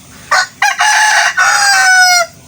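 A rooster crows loudly and close by, a long strained call broken into several bursts and trailing off at the end.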